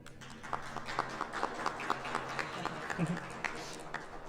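Audience applause for filmmaker Camila Loboguerrero at a Colombian cinema conversation event, a steady patter of scattered hand claps sustained for several seconds in a room, with a faint voice briefly rising near the end.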